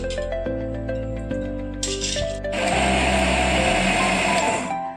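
An electric mixer grinder hums with a steady motor whine, then roars into a loud, gritty whir as it crushes peeled tomatoes for momo chutney, with a few clinks from the jar and no talking.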